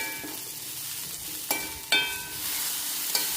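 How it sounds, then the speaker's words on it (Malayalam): Mango pieces with onion, garlic and mustard are stirred in a sizzling pan, a steady frying hiss broken by a few sharp spoon scrapes and clacks against the metal. "നമ്മൾ മാങ്ങയും കൂടെ ഇട്ട് ഒന്ന് ഇളക്കിയെടുത്തു."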